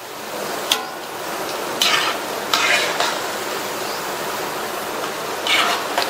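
Pakoda frying in hot oil with a steady bubbling hiss, broken by occasional clinks and scrapes as the fritters are turned with a utensil in the pan.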